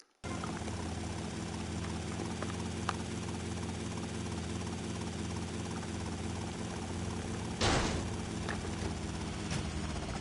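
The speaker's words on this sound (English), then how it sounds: "when I heard the helicopter like zooming down like that" Helicopter in GTA Vice City video game, a steady droning rotor and engine hum held throughout with a brief louder whoosh near the end, moderately loud and without talk.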